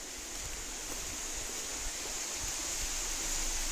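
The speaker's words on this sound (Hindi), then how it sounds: "यहाँ से वाटरफॉल हो रहा है" Waterfall beside the Aanshi Ghat road, a constant broad rush of falling water that stays even and close throughout, with no voices.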